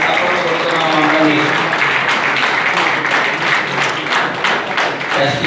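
Audience applause at a lamp-lighting ceremony honouring service organisations in Vizianagaram district, a steady dense clapping from a crowd that continues throughout, with a voice faintly mixed in.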